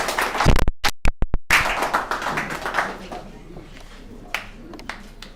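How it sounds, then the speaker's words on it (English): An audience at an evening alumni recovery meeting gives a round of applause, opening with a few sharp, loud claps that spread into a dense patter, then thin out into scattered faint claps. "Let's give Jacob a warm round of applause."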